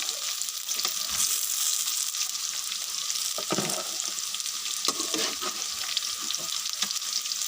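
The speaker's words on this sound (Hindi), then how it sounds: "ये अच्छी तरह फ्राई हो गई है भिंडी" Okra (bhindi) fries in oil in a pan with a constant close sizzle, and occasional stirring scrapes break through the crackle.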